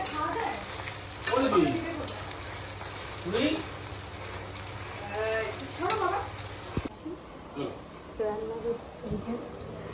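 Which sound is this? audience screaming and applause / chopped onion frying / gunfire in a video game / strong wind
chopped onion frying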